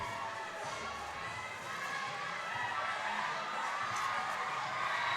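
A large crowd of boxing fans, many of them El Salvadorian, cheers and shouts steadily between rounds of a bout, a dense, continuous roar of voices with no single speaker standing out.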